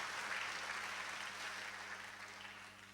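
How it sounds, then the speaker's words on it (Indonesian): Church congregation at a revival service applauding, a broad steady wash of many hands clapping, fairly distant and soft, slowly fading toward the end. "Berikan tepuk tangan yang meriah buat Tuhan"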